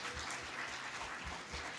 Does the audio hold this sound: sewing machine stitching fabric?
no